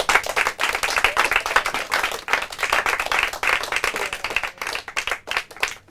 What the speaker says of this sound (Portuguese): uma salva de palmas para as nossas 4 equipas